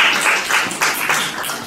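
Audience applause fills a poetry conference hall for young writers in Alba Iulia, a dense, steady wash of many hands clapping close and loud throughout.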